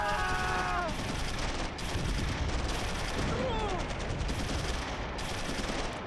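Dense gunfire in Close Combat III during the Stalingrad Rattenkrieg fight: rapid machine-gun bursts and rifle shots crackle continuously, with scattered whistling tones and a brief lull, under occasional game voices.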